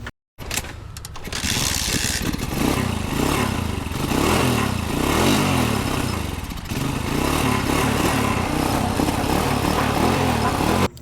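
A Euro 125 motorcycle engine, fitted with a battery-operated CDI conversion, starts after a brief silence and then idles loudly and steadily up close with an uneven, throbbing putter and slight rises in revs.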